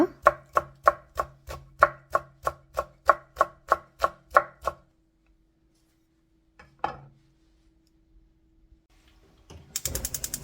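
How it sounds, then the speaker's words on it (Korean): A knife chops blanched seaweed stems, the white parts, on a cutting board in a home kitchen: about fourteen steady, evenly spaced close knocks, then a pause, one stray tap and a short rustle. "봐도 흰 부분만 다 썰어 놓을 거예요"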